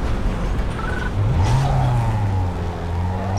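A car in the racing game Need for Speed Underground 2 drives with a loud engine hum that climbs in pitch as it accelerates, then settles into a steady cruise, alone without speech.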